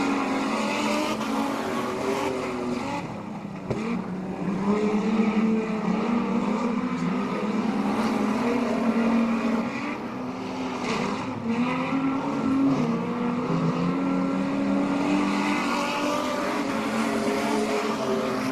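Street stock cars race in a 50-lap final at Laang Speedway, their engines roaring loudly and continuously, with pitch rising and falling as the pack passes nearby.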